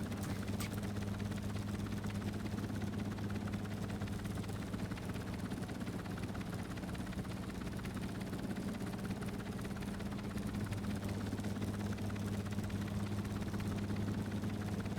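Aircraft engine in Stormworks during takeoff, a steady droning hum with strong low tonal bands holding constant throughout, loud and continuous with no talk over it.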